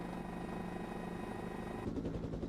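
Police helicopter following a fleeing suspect over a wooded area, its rotor a steady mechanical drone with a rhythmic chop, faint and distant throughout.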